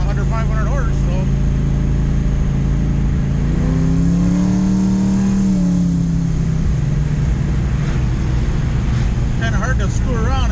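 A 1980 Camaro Z28 V8 idles steadily at close range, with a smooth rev rising and falling partway through, while someone talks over it.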